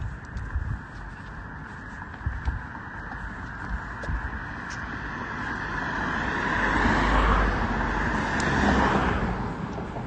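A car engine swells as it approaches and passes, rising to a peak and fading, over a steady background of traffic rumble and faint bird calls.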